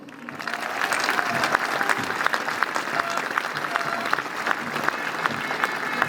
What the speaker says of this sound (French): Je pense qu'on peut applaudir maintenant tous ces bénévoles.